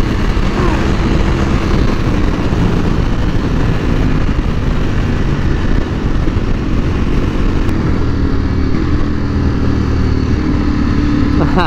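Two Ducati Panigale V4R motorcycles ride with a loud, continuous engine roar and wind rush that stays steady throughout.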